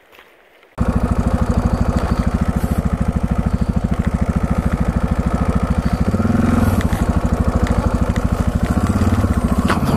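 A motorcycle engine, turned around at a dead-end road in Norway, starts up after a quiet moment and runs steadily and loudly with a fast, even putter that swells slightly toward the end.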